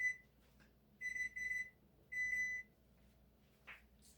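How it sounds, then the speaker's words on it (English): A kitchen timer goes off in a home kitchen during sourdough baking, several short bursts of bright high-pitched beeping with pauses between them, fairly faint and with no voices. "Timer for something else I got going."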